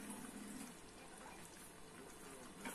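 Boiled water poured into a container in a home kitchen, a faint, steady splashing trickle running the whole time with no talking.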